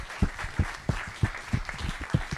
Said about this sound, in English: please give this wonderful panel a round of applause